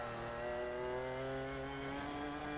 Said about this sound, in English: And then he just accelerates out because this car has just got so much torque.